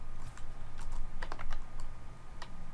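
Computer keyboard typing goes on steadily over a constant background hum, with a brief flurry of quick keystrokes in the middle and a few isolated presses near the end, close and moderately loud.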